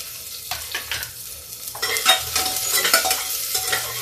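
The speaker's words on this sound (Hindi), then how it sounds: "अब डाल देंगे इसमें देखिए लहसुन और अदरक, और इसी समय प्याज।" Garlic, ginger and onion hit hot oil in a pan on low gas for a French beans and peas dish, bursting into a crackling sizzle with stirring scrapes, close and fairly loud, without talk.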